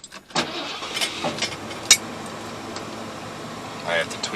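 A 1980 Ford F100 pickup engine runs at a rough, low idle close by, a steady mechanical rumble with a few clanks and bumps over it and no talking.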